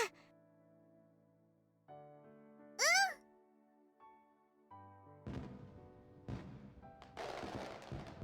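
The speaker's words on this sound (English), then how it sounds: "Fireworks continue to light up the night sky one after another." Fireworks going off in the night sky over a festival with a goldfish scooping stand: a rising whistle, then several booming, crackling bursts one after another over soft background music.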